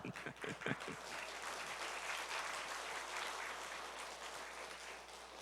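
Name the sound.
audience applause in church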